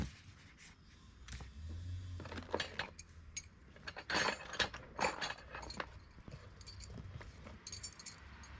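Metal pegs and brackets from a freestanding 4WD awning kit being unpacked, with scattered clinks, jangles and clunks of metal on metal in irregular bursts, close up and fairly quiet, with no talking.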